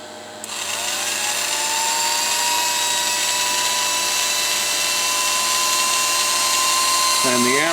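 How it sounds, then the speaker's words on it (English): A power drill is switched on and spins up, powered through a Terado Super Gemini 50-133-3A old inverter: a loud, steady high-pitched whine with a rising tone that holds for several seconds before winding down near the end. "take this drill"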